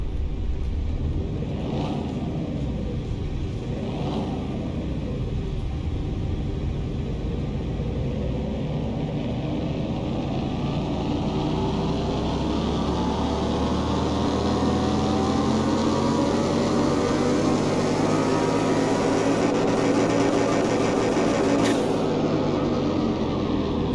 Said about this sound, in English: Okay, so we want to run the dyno on this thing.